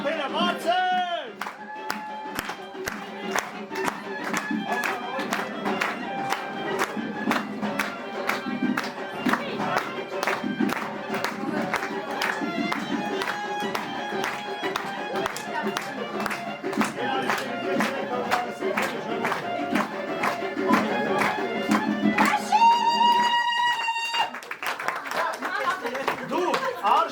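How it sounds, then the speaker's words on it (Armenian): Audience at an Armenian event clapping in a steady, loud rhythmic beat with some whoops and chatter, running under amplified music and talk, with a short surge of cheering near the end. "Ծափերը բարձր։"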